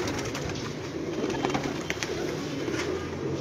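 Pigeons coo steadily on a rooftop loft where birds of many breeds are kept, a dense chorus of overlapping low calls close by with no talk.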